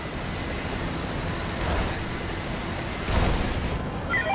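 Helicopter flying in The Crew driving video game, a loud, continuous rushing rotor-and-engine drone that swells slightly twice, heard alone with no talking.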